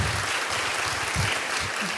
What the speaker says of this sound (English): So how about a big round of applause for what the city does for